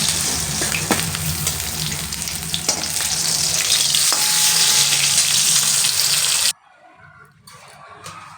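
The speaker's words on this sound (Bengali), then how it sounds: "এক এক করে সব মাছ ভেজে নিলাম" Pieces of rohu fish frying in oil in a wok sizzle loudly and steadily with occasional sharp crackles, then the sound drops away to a quiet background with faint running water.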